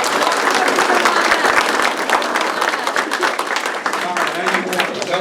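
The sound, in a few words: audience applause for students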